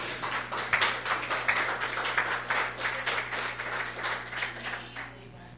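Church congregation applauding to praise the Lord, a dense, continuous patter of many hands clapping at a steady, fairly loud level, with a low steady hum underneath.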